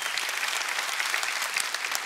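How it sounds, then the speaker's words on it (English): Audience applause from a large crowd at a sermon event, a steady dense wash of clapping lasting the whole stretch with no voices over it. "If you want to applaud Jesus"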